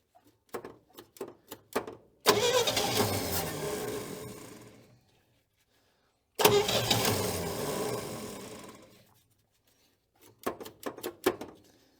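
An abandoned 1968 GMC truck engine cranks in two long bursts of several seconds each, straining to start without catching, with short clanks and knocks before and after; loud and close, no talk.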